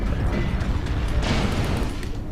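Fireworks explode in a MechWarrior Online match as a dense, loud run of booms and crackling bursts fills the whole stretch, with a brighter burst cluster in the middle.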